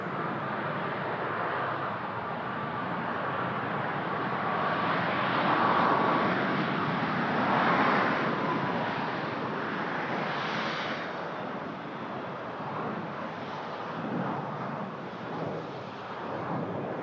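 A Boeing 747 heavy jet at Toronto's airport produces a broad, steady roar that swells and fades gradually over many seconds, distant and continuous, with wind rumble and no speech.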